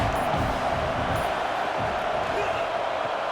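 A stadium crowd roars steadily in the College Football 26 video game during a Missouri Tigers versus Arkansas Razorbacks matchup, a dense, continuous wash of massed voices with faint commentary mixed in.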